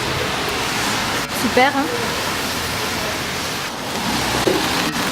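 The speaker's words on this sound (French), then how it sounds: "Ah, il pleut déjà?" Steady rain hisses all around in Kyoto, with a short spoken remark partway through and a few faint clicks and thumps.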